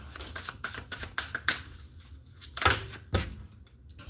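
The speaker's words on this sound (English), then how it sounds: "Let me give them a quick shuffle real quick." A deck of playing cards gets quickly shuffled by hand, a run of crisp riffling flutters and sharp card snaps in uneven bursts, close and fairly quiet, with no voices over it.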